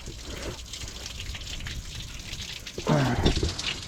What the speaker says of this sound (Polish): No już to już czyściejsza ta woda leci